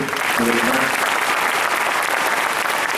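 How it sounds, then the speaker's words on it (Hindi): Loud, steady audience applause fills the space for the full three seconds, dense and continuous, with a faint voice briefly audible beneath it near the start. "मैं हर गीत के लिए मैं चाहता हूँ कि तालियां बजें जोर से"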